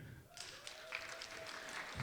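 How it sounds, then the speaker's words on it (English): Audience applause at a stand-up comedy show in a theater, a short burst of clapping rising after a brief quiet start and continuing steadily at moderate volume. "Round of applause"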